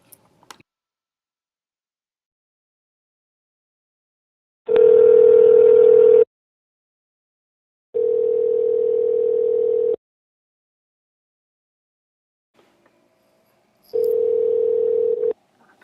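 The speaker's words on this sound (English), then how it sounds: "let's give him a call and see what he's been doing" A telephone line plays a steady dial tone in three separate bursts with silent gaps between them, clear and alone with no talking.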